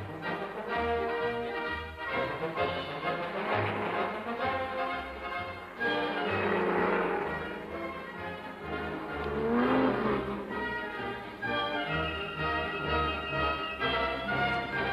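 Race cars circle the track at the 1954 Le Mans 24 Hours, engines rising and fading as they pass one after another over steady background noise.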